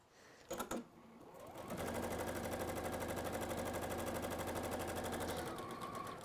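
A domestic sewing machine runs a quarter-inch seam in a fast, even rattle of stitches. A brief clunk and a short burst come first, then the needle hammers steadily for about four seconds before slowing to a stop.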